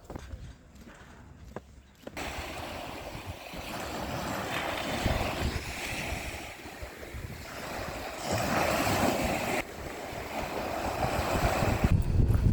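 Sea waves washing onto a beach on Menorca, a steady broadband roar of surf with wind that swells and eases across the stretch, up close and without talk.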